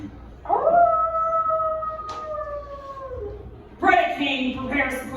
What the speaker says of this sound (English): a wolf's howl alerts him to more incoming warriors